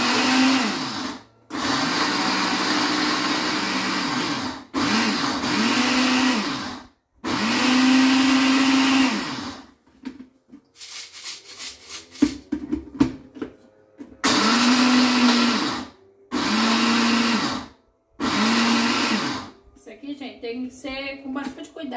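A kitchen blender grinds eggshells into powder in repeated bursts of several seconds each, whining loudly then stopping in short pauses, with rattling and a person talking between runs.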